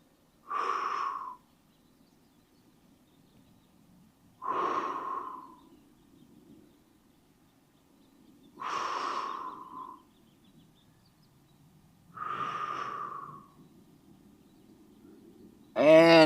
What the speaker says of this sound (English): Breathing deeply. With every exhale, again, try and sink a little bit deeper.